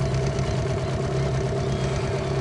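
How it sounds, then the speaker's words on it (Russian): A boat motor idles on a river, giving a steady, close, continuous low rumble with an even mechanical hum that holds throughout without change in speed. "Вот за неделю первый раз завел мотор."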